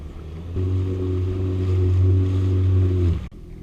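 A jet ski idles at sea while fishing off the Channel Islands, its engine a steady low drone with a harmonic hum that starts abruptly, holds evenly for almost three seconds, then cuts off, leaving faint wind and water.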